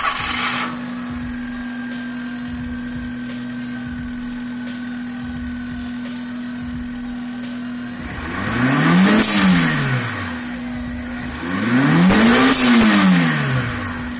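A Daihatsu Ceria carrying a swapped-in Mira L502 turbo engine idles steadily with a low, even drone, then revs up sharply twice, each rise and fall of pitch loud and close.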